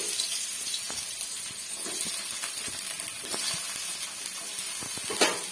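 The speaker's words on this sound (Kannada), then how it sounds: "ಈರುಳ್ಳಿ ಚೆನ್ನಾಗಿ ಫ್ರೈ ಮಾಡ್ಕೊಳ್ಳೋಣ" A chopped onion fries in hot oil with dried red chillies for tomato sambar. The steady crackling sizzle is close, with scattered stirring scrapes and a sharper clatter near the end, and no one speaks.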